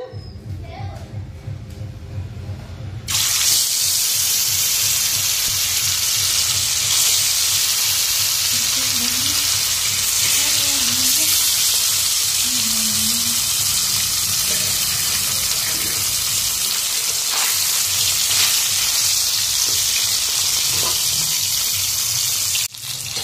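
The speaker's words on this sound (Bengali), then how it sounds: "এখন পাঁপড় ভাজবো" Papad frying in hot oil in a wok gives a steady, loud sizzle throughout, beginning after a quieter opening stretch, with faint voices in the background.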